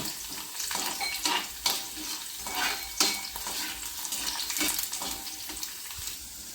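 Cashews and raisins frying in oil with ghee make a steady nearby sizzle, with scraping stirs and a few sharper clatters rising and falling over several seconds, and nobody speaking.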